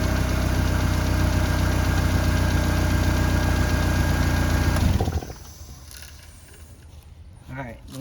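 A Ford car engine idles steadily with a loud, even mechanical hum for about five seconds, then shuts off, leaving a quiet room with faint rustles.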